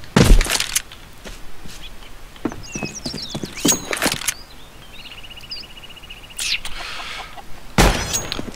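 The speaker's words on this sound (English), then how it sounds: "Chickens." Chickens in a video game map cluck in short scattered bursts, with bird chirps and several sharp thuds and clip-clop-like knocks around them, fairly near and moderately loud.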